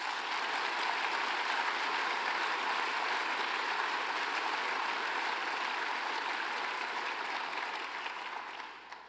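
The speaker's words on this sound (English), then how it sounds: "Can we give Leah a big round of applause?" A banquet audience at the Life and Hope Banquet 2023 in Kansas City breaks into a big round of applause: dense, steady clapping from a large crowd that holds for about nine seconds before easing off at the end.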